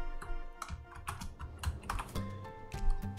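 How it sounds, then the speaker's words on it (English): Rapid keystrokes on a computer keyboard, a quick irregular run of clicks typed close up, moderately loud, with no talking. "I'm gonna just type test,"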